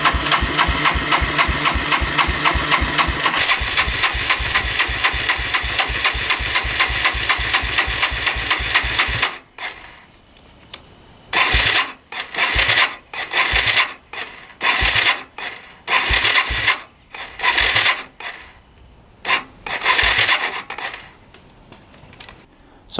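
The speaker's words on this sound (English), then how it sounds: "you can crank this thing all day, I've tried it. And it will not fire." A non-running street legal dirt bike engine cranks over on its electric starter without firing, a fast steady churning for several seconds, then a series of short separate cranking bursts broken by silences.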